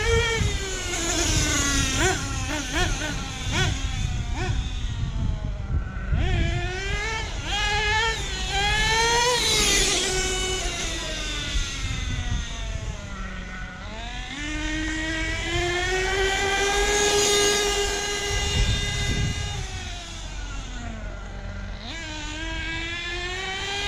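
A Losi 8T RC truck being broken in, its small engine screaming loudly and continuously at half and quarter throttle, pitch rising and falling with repeated revs over about twenty-four seconds.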